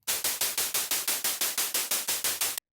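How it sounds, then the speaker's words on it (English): White noise from a synthesizer mixer pulsed by an LFO, about fourteen even hissing bursts in quick rhythmic succession, loud and close, each swelling then cut off, with no voices. "We have white noise plugged into the mixer, and the LFO is controlling the modulation, which is the speed."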